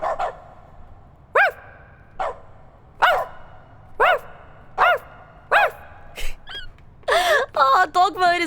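A dog barks in dog mode in The Stanley Parable: Ultra Deluxe, with about eight evenly spaced sharp woofs followed by a quicker burst of yips at the end.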